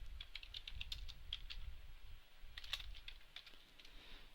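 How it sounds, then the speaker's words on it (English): Code is typed on a computer keyboard in quick, uneven bursts of light key clicks with a short pause midway, faint and close with no talking. "Let's go type in var, let's call this bounds rect"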